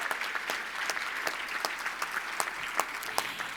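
Audience applause at a Martin Luther King Jr. community leaders celebration, a moderately distant patter of many hands clapping, with a few sharper claps standing out.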